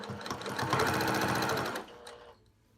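A home sewing machine quilting along a ruler runs in a steady, fast rapid stitching burst for about two seconds, close and clear, then stops and leaves near silence.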